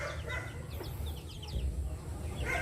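Chickens, including Rhode Island Red pullets and a rooster, clucking softly in short scattered bursts over a low, steady background rumble in a backyard farm.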